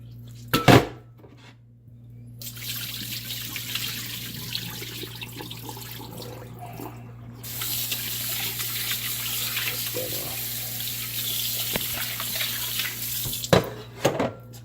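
Steady broadband rush of tap water running into a sink, continuous for most of the clip, with a few clinks of dishes near the start and end.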